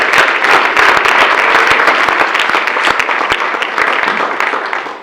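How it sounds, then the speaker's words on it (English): Audience at a municipal council meeting applauding, a loud, steady wash of many hands clapping close by throughout, with no speech over it. "So, Chris, once again, you've earned applause, and Pam, you too."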